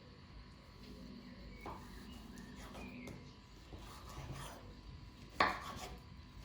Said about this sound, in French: on coupe la banane